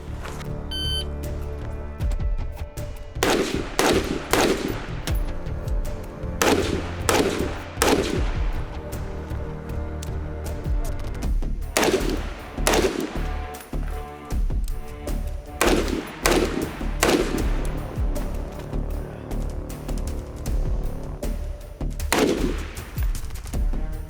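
A rifle fitted with a Vortex LPVO scope fires in quick, sharp bursts, with sharp shots in groups separated by short pauses.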